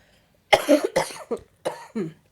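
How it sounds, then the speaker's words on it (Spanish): A person coughs in a quiet room, a string of about five harsh, close bursts in quick succession, alone without talk. "una disculpita si se me sale aquí la tosecilla"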